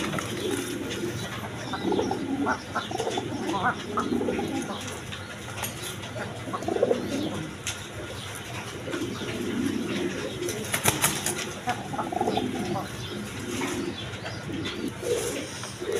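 Big-size pigeons at a pigeon market coo repeatedly in low, rolling calls, with occasional wing flaps and someone talking over them.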